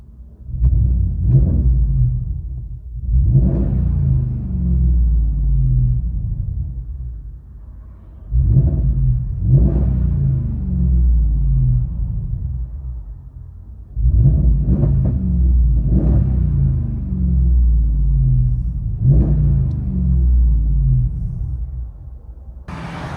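Deep, throaty 5.7L HEMI V8 exhaust rumble from a 2021 Ram 1500 with true dual straight pipes and X pipe, heard from inside the cab, rising in several loud revs separated by settling idle.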